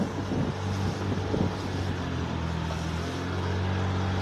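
A steady, loud rush of wind buffets a car while driving along a Turkish resort road, forming a continuous low roar with a faint engine hum underneath and no voices.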